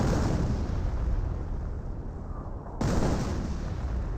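An off-map artillery strike in the World War II strategy game Company of Heroes, a loud rumbling explosion that fades into a low roar before a sudden second blast.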